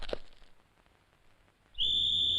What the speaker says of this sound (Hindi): मेरे बाप ने सीटी बजा दी है